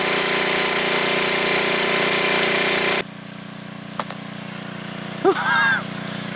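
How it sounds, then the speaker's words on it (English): A 5,000-watt portable generator runs with a steady, dense mechanical clatter and hum for about three seconds, then drops to a quieter drone with a brief knock and a short voice sound near the end. "Great generator."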